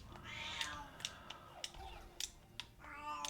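A pet cat meows a few short times indoors, brief mews close by amid quiet game background sounds.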